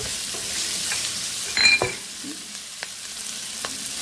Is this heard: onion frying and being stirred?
yes